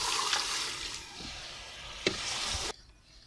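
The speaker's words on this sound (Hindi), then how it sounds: "दाल हमारी को लगी भुनी, और इसमें अब हम डाल दें पानी" Water poured into a pot of frying lentils (dal), sending up a loud, steady hiss and sizzle that cuts off abruptly near the end.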